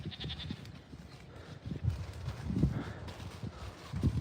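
Goats on a farm bleat several times in short bursts, fairly close, with a little rustling in the background.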